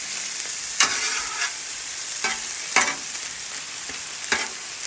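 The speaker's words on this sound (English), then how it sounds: "So you brown this meat up" Beef or pork browning in a frying pan, a steady soft sizzle broken by periodic scraping stirs, close and alone with no talk.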